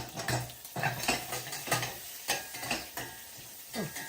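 Pancetta sizzling in a hot dry pan, with repeated scraping and stirring strokes of a utensil in a steady rhythm, close up and fairly loud.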